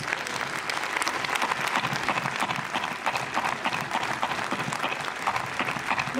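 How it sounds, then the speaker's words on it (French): An audience in a cinema auditorium applauds an actor's arrival: a sustained, even wash of crowd clapping at moderate distance, continuous for several seconds with no speech on top. "je demande d'applaudir l'un des plus grands comédiens français"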